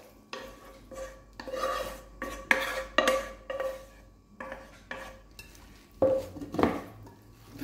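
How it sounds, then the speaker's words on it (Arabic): A utensil stirs and scrapes a minced meat mixture in a pot for a traditional Algerian tajine, irregular close scraping strokes and clinks with short gaps between them. "نخلطو كامل هنا مع بعضا"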